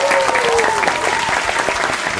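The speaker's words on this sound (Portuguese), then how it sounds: "Salva de palmas pro Vina." A group claps for a participant introduced on a game show, brisk close applause filling the whole moment, with voices calling out over the clapping.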